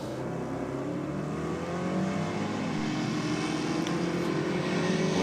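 A Holden Monaro drag car launches down the strip with a loud, rough, sustained engine roar that builds steadily over a few seconds, with no talking.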